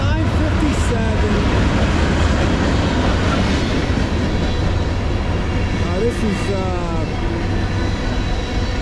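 A CSX freight train, M406, hauling trash cars rolls past close by with a loud, steady rumble and clattering wheels that fill the whole stretch without a break.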